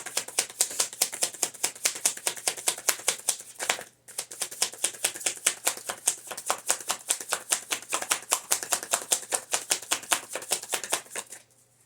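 Rapid crisp riffling of an oracle card deck being shuffled, dense repeated clicks in quick bursts with one brief pause partway through, close and clear with no talking.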